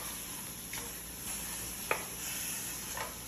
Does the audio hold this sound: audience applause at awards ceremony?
no